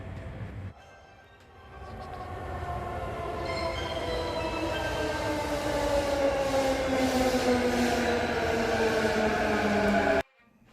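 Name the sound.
train at a station in Nagano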